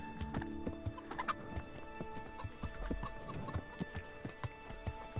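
Horse hooves clip-clop steadily in the medieval game Kingdom Come: Deliverance, a continuous walking rhythm amid outdoor ambience with faint farm-animal sounds, moderately loud and close.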